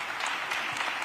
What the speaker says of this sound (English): y'all go ahead clap